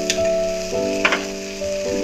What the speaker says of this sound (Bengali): এবার আমি যে জিরে, ধনে, টমেটো, পেঁয়াজ একসাথে পেস্ট করে রেখেছিলাম ওই মশলাটা দিয়ে দেবো।